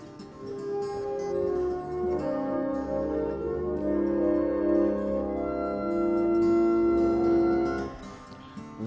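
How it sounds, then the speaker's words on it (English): Church pipe organ built in 1898, sounding sustained, overlapping chords that swell and shift slowly, steady and fairly soft in a reverberant room, with a few faint clicks above. "It's a pipe organ whereby you have to press the pedals and then brings out the sound like this."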